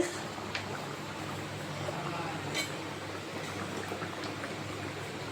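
Katla fish kalia curry simmers in a pan with fried fish pieces and potatoes, giving a steady low bubbling and soft popping that stays even throughout, fairly quiet, with no talking.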